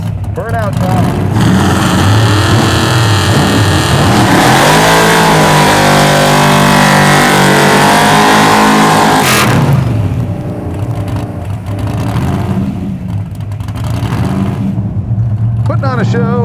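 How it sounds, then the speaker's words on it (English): A Hemi-powered muscle car does a burnout, its engine revving hard into a loud sustained roar with screeching tire noise that cuts off abruptly, then idles and burbles; people shout and talk nearby over it. "Burnout time."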